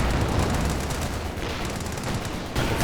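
Sustained battlefield gunfire in the World War II strategy game Company of Heroes 2, a dense, continuous crackle of rifles and machine guns with no clear gaps, steady and fairly loud throughout.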